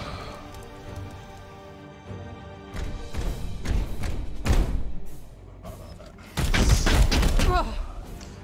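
Gunfire and heavy impacts in Warhammer 40,000: Chaos Gate Daemonhunters, several booming bursts and thuds in irregular clusters, loudest near the end, with a voice talking over the game.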